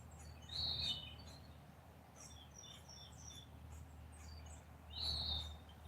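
A squeaky, high bird call sounds twice, several seconds apart, faint and somewhat distant against a quiet outdoor backdrop with scattered soft chirps between.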